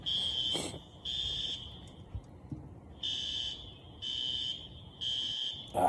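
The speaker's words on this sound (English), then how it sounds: "This fire alarm's killing me." A fire alarm sounds in loud, repeated high-pitched bursts with short gaps between them, over a low background hum.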